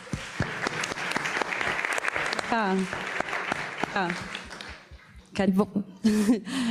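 An audience at a corporate sustainability event bursts into applause, dense clapping that runs for several seconds and then fades, with cheers, whoops and scattered laughter mixed in near the end.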